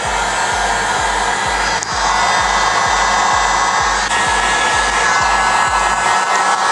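A heat gun blows hot air over interior tape on a Camaro, a loud, continuous airy roar with a pulsing low hum underneath, running steadily throughout with no speech.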